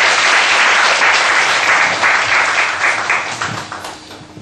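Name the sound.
congregation applauding in church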